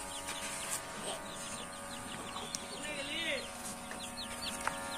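Faint clucking and chirping from chickens in a poultry shed with mesh-net sides and a fan running, scattered calls over a constant low hum.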